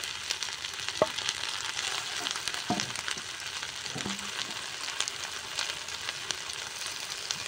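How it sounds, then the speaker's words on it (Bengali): Semolina and potato snacks fry in hot oil, a steady close crackling sizzle with small pops and occasional stirring clinks, no voices. "বাকি যেগুলো রয়েছে ঠিক এই একইভাবে আমি এইভাবেই ভেজে নেব।"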